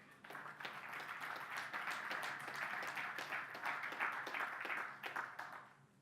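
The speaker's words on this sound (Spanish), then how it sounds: "Un aplauso al Señor." Sustained applause from a large church congregation, dense and steady for several seconds, with no talking.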